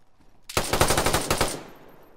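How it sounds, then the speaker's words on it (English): AK rifle fire in a video game: a close, loud burst of about eight rapid automatic shots lasting roughly a second, then fading into a short echoing tail. "I'm hearing an AK go off"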